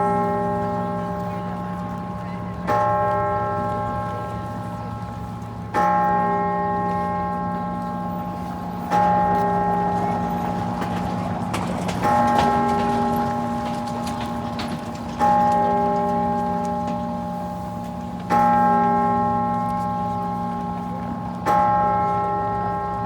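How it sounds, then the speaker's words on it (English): The centennial bell in Philadelphia, ringing since 1876, tolls slowly and steadily, one resonant strike about every three seconds with long humming decays, loud and fairly near, with faint background noise between strikes. "I'm going to let this bell ring. This is the centennial bell."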